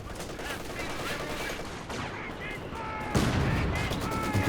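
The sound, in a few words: gunfire in video game Company of Heroes 2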